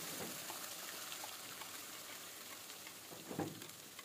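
Ground masala paste hits hot oil just after cumin and a pinch of asafoetida, giving a steady broadband sizzle throughout with a brief louder spatter near the end, close and alone.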